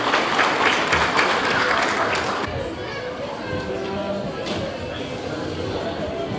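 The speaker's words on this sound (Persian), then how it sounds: "تا آمدن ایشان تشویق بفرمایید." An audience at a Dawood community Eid festival in Melbourne applauds loudly, the dense clapping fading to a quieter, scattered patter with crowd murmur and children's voices underneath.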